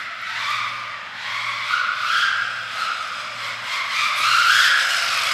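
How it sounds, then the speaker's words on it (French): Fast red rally car skidding around an indoor track, tires squealing in long sustained waves that swell and fade, fairly loud and continuous. "C'est une voiture de rallye rapide rouge."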